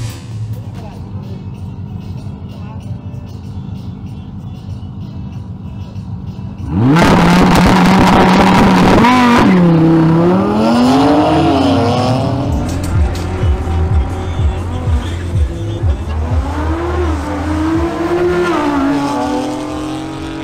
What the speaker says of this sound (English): Finally, closing the classifications, Alvaro Stefanel presents his BMW X3 M Competition